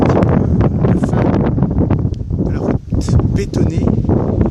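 Wind at Port Est on Réunion buffets the microphone in strong, roaring gusts, a dense rush that swells and briefly drops before surging again.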